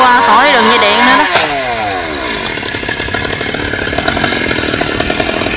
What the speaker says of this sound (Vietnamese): Em Cường đang đợi cho anh Hiền cưa phần nhánh bên kia.